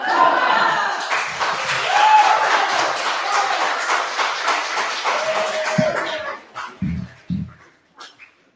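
An audience at an art and poetry exhibition applauds after a song, a burst of clapping with voices mixed in that tapers off into scattered claps and quiet.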